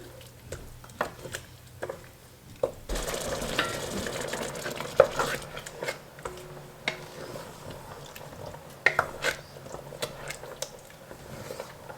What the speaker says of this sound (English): So I'm just gonna give this a good stir